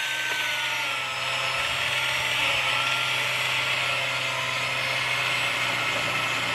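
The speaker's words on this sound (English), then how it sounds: "It takes a little while because this is a saw blade essentially, so you have to let the blade work its way through." A trimmer's saw blade grinds steadily through a knobbly ash branch during pruning, a continuous loud motor whine with a rough cutting rasp that holds for several seconds.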